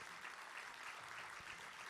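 A crowd at a poetry slam competition claps for a poet, a short burst of steady, fairly distant applause with no talking.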